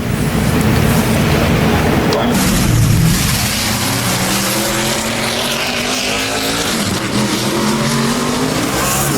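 Loud NASCAR Sprint Cup race car engine roaring steadily at Bristol Motor Speedway qualifying, with pitch sweeps as it runs the lap, a commentator talking over it throughout.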